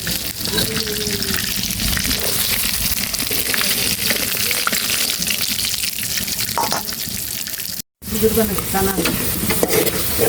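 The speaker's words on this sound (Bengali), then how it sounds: "আলু ভাজা শেষ" Potatoes fry in a pan, a loud continuous sizzle with repeated scraping stirs, a brief drop to silence near the end before the frying resumes.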